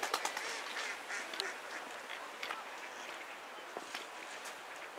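A flock of ducks quacks below, a dense chorus of overlapping calls at moderate distance, with occasional sharper quacks standing out from the background.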